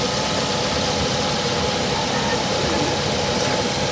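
A Mazda 6 engine runs steadily after being repaired from a no-crank, no-start fault. It gives a loud, continuous close-up drone, with voices faintly mixed in.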